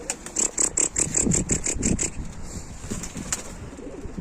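Tumbler pigeons in a loft coo close by, with a run of soft rhythmic pulses, then scattered calls and faint flutters.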